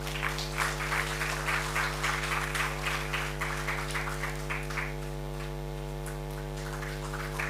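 A seminar audience in an auditorium claps steadily for about five seconds, then the applause thins out and fades. A loud, constant electrical hum sits underneath throughout.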